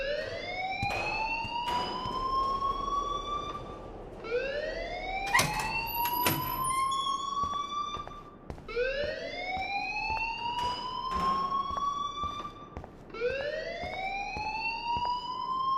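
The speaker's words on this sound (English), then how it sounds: "please turn off that alarm since that's your job" Alarm in the Life Is Strange video game wailing in repeated rising sweeps, about five cycles, with scattered clicks and knocks between them and no voices.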